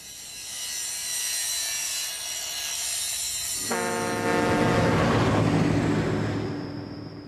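Saws cutting through stone blocks during the Abu Simbel temple relocation, a steady loud grinding rasp that turns harsher and ringing partway through, continuous with no talk.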